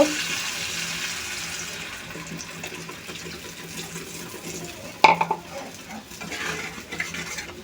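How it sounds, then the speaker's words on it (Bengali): Water is poured into a pan of mustard puti fish curry gravy with a soft splash and stir, followed by a sharp clink of utensil on pan and faint kitchen clatter. "জলটা দিয়ে দিলাম"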